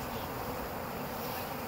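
A dense, steady hum of many bees buzzing close by, faint but continuous with no voices.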